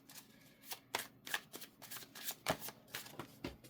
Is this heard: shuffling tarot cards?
yes